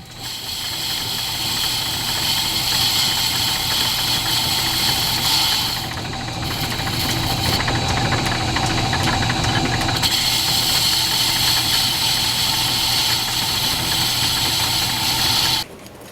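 A steam engine runs in an old steam-powered machine shop, a loud, steady mechanical drone with rhythmic knocking and vibration, holding throughout apart from a brief dip partway.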